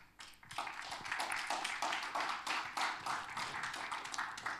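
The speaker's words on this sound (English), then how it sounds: "Donc on peut les applaudir également et les remercier." Audience applause at the closing of a forum event, a steady wash of many hands clapping that swells after a brief start and holds evenly throughout, moderately loud in a large room.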